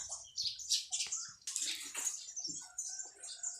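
Water being poured over a potted lemon lime colocasia plant, splashing and trickling in uneven bursts at close range, with faint chirping birds behind.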